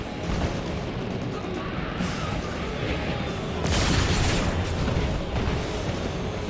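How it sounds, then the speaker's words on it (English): Artillery explosions in the video game Marvel's Avengers, a dense, continuous rumbling barrage with a louder burst midway, steady booming throughout and little speech. "Their artillery's targeting you."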